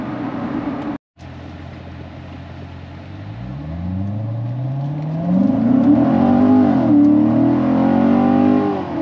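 A C7 Corvette Grand Sport with a newly fitted air filter accelerates hard, its engine note climbing loudly through a long rising pull after a brief cut, close and alone.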